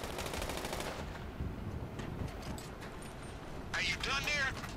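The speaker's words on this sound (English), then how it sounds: "Assault shotgun." Assault shotgun fire in a Grand Theft Auto game: a burst of rapid, loud blasts at the start and another cluster near the end, over steady game background noise.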